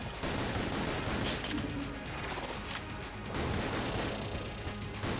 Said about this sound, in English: I'm also firing way too fast for this